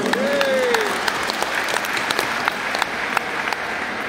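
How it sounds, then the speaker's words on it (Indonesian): A church congregation at a thanksgiving service applauds, dense clapping heard up close, with a brief voice or tone rising over it at the start before the clapping continues alone. "Kita berikan tepuk tangan dulu, aplaus"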